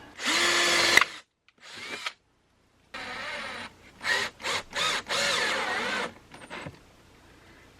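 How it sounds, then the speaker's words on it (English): A power drill drives screws through sheet metal while mounting solar power electronics, with several close, loud whirring bursts of varying length separated by short pauses. "I can use my drill to go through my sheet metal and hang the rest of these screws in here"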